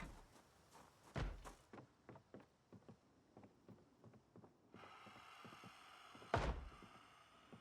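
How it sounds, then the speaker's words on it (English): Door banging inside a house in Project Zomboid Build 42, a run of sharp wooden thumps and knocks at irregular intervals, two heavier bangs standing out against a low hiss, with no talking. "I heard somebody banging a door somewhere here."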